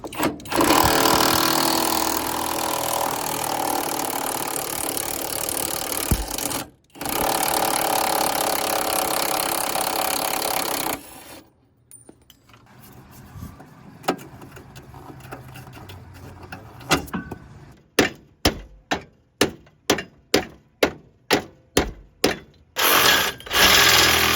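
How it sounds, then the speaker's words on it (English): Ratchet unbolting a body mount on a truck, first a long steady mechanical whir, then a quieter gap followed by a quick series of sharp clicking ratchet strokes in a regular rhythm. "I'm gonna unbolt the body mount"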